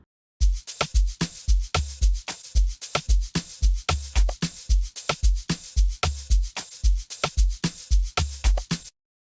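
The first amapiano drum pattern programmed in FL Studio plays as a loud, steady loop of punchy low kicks and bright crisp percussion hits for about eight seconds, then stops abruptly. No voices.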